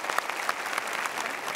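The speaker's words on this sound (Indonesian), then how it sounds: "Tapi terima kasih, kita berikan tepuk tangan." Audience applause at a live motivational talk show, brisk dense clapping with a few sharper individual claps standing out, short and unbroken.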